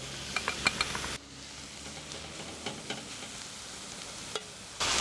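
Onions and mushrooms frying in a pan for burgers, a steady soft sizzle with a few sharp clicks and stirring scrapes, moderately close and without talk.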